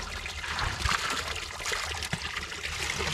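Water from a cold natural spring runs and dribbles while a container is being filled, a steady nearby trickle with occasional soft splashes.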